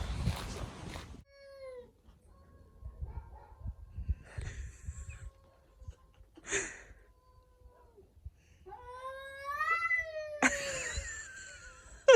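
A cat in a village lets out drawn-out, wavering yowls and meows during a cat fight, rising and falling in pitch, with quieter rustling and faint murmurs between calls.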